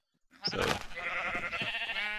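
A sheep bleats in a Minecraft modpack world, one wavering, harmonic bleat that starts sharply and holds steady for about two seconds, close and fairly loud, with a brief spoken word just before it.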